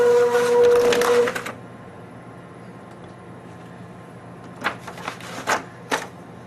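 A braille embosser runs a short burst of rapid, rattling mechanical strikes, pauses in near quiet, then clatters in a few quick bursts.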